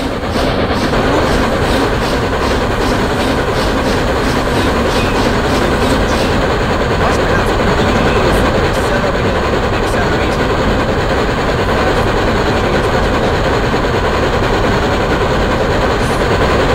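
Steam locomotives, a GS-4 and a CN U2g Northern, race side by side in Trainz, giving a loud, continuous rumble of rolling wheels with a rapid clickety-clack rhythm and occasional wheel squeal, with no talking.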